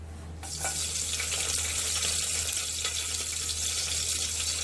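Cut green chillies sizzle and fry in a pan of traditional moringa leaves curry, a steady loud hiss that starts abruptly and continues throughout without talk.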